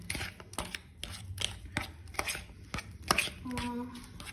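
Bananas being mashed for banana bread give repeated sharp thuds and squelchy presses against a bowl, irregular and close, about a dozen strikes spread across the stretch.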